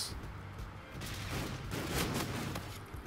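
Video game gunfire from a three-round burst weapon in Infinite Warfare, dense repeated shots with a continuous busy backdrop, moderately loud throughout.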